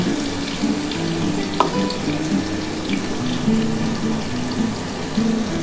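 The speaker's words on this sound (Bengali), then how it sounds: "এই মশলার জলটা বন্ধুরা আমি দিয়ে দিচ্ছি।" Spiced masala water pouring steadily into a pan of katla fish curry, a continuous close splashing stream that runs throughout without talk.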